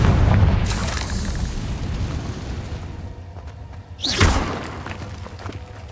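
In the video game Hogwarts Legacy, a Confringo fire spell detonates in a heavy, booming explosion, followed by a second sharp blast amid rumbling game ambience.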